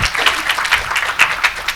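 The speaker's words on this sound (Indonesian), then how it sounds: "Boleh berikan tepuk tangannya sekali Bapak Ibu." An audience at an iftar gathering applauds on cue: a close, lively burst of many hands clapping in quick uneven patters, staying strong for nearly two seconds.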